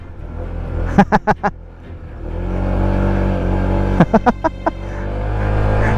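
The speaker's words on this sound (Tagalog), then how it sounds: "Dumudulas agad yung gulong natin, eh." A car on the Laoag sand dunes revs as its tires slip in loose sand. The engine rumbles steadily and swells, broken by two short clusters of voices or shouts.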